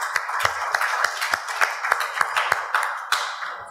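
Scattered applause from an audience at an awards announcement for media finalists, a sparse run of individual claps at moderate distance, fairly light and brief.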